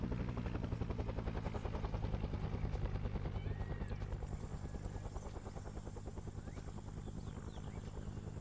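Helicopter in the video game Arma 3, a loud, steady rotor thump with a heavy low drone and rapid chopping pulse, continuous and near, fading slightly toward the end.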